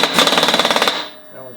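Air impact wrench with a 22 mm extension socket tightening the spindles on a John Deere 48 inch mower deck, a loud close rapid hammering burst about a second long that cuts off into quiet.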